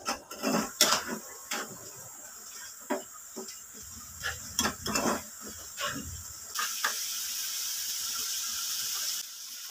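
Chili powder, salt and spices being sautéed together in a pan for an egg scramble, with sharp utensil knocks and scrapes against the pan over a faint sizzle, close and fairly quiet.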